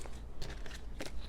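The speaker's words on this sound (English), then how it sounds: "I like to shuffle on camera" Tarot cards being shuffled by hand produce a few soft, close riffling bursts with brief crisp flutters between quiet pauses.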